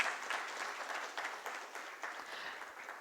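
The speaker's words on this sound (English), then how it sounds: "can we have a resounding applause for the dignitaries on the dais?" An audience at a Construction Federation of India event claps in a brief burst of applause for dignitaries, dense and steady from start to finish.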